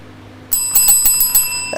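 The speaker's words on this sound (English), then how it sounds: "Right, ring that bell." A small bell is rung by hand in a few quick, bright metallic strikes, each ringing clearly with a shimmering decay, close and loud against a quiet background.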